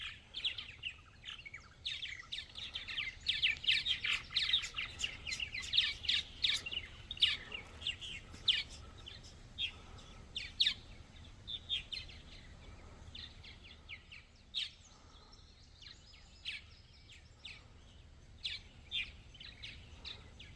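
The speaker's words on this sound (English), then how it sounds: "You can listen to all the birds." Many birds chirp and sing around hanging bird houses at a wooded nature station in Cadiz, Kentucky, with rapid overlapping tweets, busiest early and thinning out, moderately distant.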